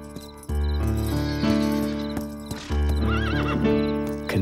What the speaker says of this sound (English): Go bring me my horse.